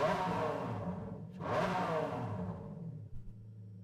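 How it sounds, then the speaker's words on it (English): In Gran Turismo 7, a car fitted with an Enzo engine swap revs loudly, climbing to a roaring peak, dropping briefly and surging again, with a rough rumbling undertone and no talk. "So this has got an Enzo engine in it."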